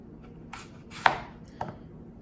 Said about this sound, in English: And then I'm going to chop my apple next.